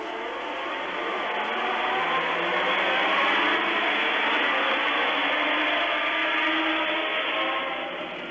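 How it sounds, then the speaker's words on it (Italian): Formula 1 cars revving at the start of the 1982 German Grand Prix, a dense, distant roar of many engines swelling to a peak and then easing off, with a muffled, band-limited quality. "Ecco che salgono i motori"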